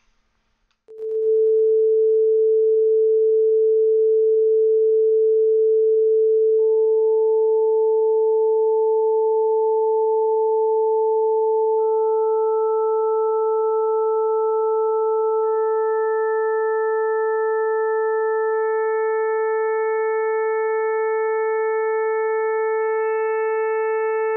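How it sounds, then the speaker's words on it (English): Pure Data synthesized sine tone, a steady pure pitch that begins abruptly and holds, with higher overtone sine tones entering one after another so the sound grows brighter, alone with no talk. "I'm going to try to raise them so you can hear these other sine tones enter and shape the color of this sound"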